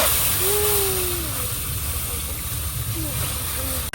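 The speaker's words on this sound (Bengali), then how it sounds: "উনুনটা খুব তেতে গেছে একটু নাড়াচাড়া করে এই দুধটা এবার ঢেলে দিচ্ছি" Milk poured into a very hot pan on a high-heat stove, a steady broad hiss and sizzle with a low rumble underneath, ending in a brief knock.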